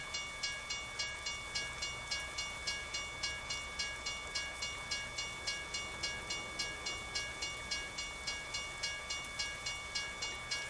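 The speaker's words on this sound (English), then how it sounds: "we'll have to wait for this freaking train to come through" A train passes in American Truck Simulator with a steady, evenly spaced clickety-clack over a constant hiss and hum, continuing at the same pace throughout.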